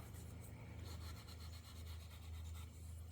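Fine 4/0 steel wool rubbed over a part of a Delta bullet electric motor during a rebuild, a steady close scratchy rasp with faint rhythmic strokes over a low background hum.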